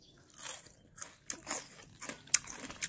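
Crisp, close crunching and chewing of red radish and cucumber water kimchi, a series of sharp bites and wet crunches in an uneven rhythm with no talking over it.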